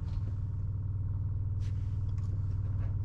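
A 1972 Ferrari 365 GTB/4 Daytona engine, freshly overhauled, rumbles at a steady idle right after starting. The deep, even throb is loud and close and runs without a break, with no talk over it.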